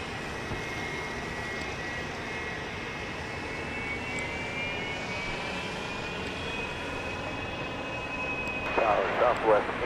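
Airliner taking off from runway 31 right at Dallas Love Field, a loud, continuous jet engine roar with steady whine holding throughout, rising slightly near the end.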